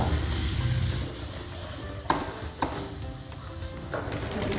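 Masala for Jammu-style rajma fries in a pan with a steady sizzle while a spoon stirs it, giving sharp scraping knocks against the pan, close up with no talk.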